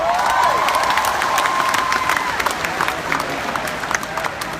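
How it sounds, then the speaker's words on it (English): Applause and cheering from a large crowd at a corporate event, with a dense, steady roar of clapping and scattered shouts holding loud throughout. "So please give all yourselves a round of applause."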